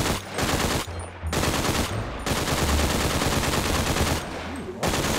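A UMP submachine gun fired in GTA 5 lets off several long, loud bursts of rapid automatic fire, with short pauses between them.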